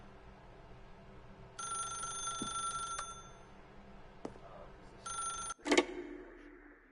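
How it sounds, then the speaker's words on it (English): A telephone rings in The Stanley Parable: two bursts of bright electronic ringing, the first longer and the second shorter, close and clear over a quiet room hum, followed by a click as the receiver is picked up. "then pick up the phone."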